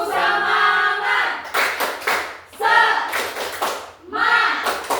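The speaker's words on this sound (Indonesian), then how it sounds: "Tepuk semangat anak-anak, silakan berdiri." Children in a classroom doing a rhythmic spirit clap, three bursts of loud group clapping with voices shouting along between them.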